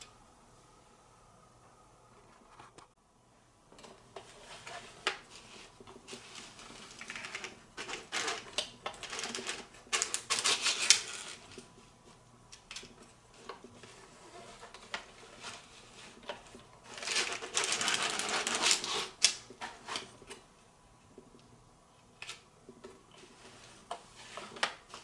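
A hand-cranked sock knitting machine clatters and ticks continuously, with a rough scraping drag from an under-sanded tension cam swelling at times amid the mechanical clicking.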